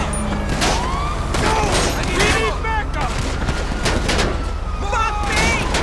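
Rapid gunfire from enemy cops peppers a vehicle in GTA Online, loud, dense bursts of shots and impacts over a siren-like wail with constant crackling chaos.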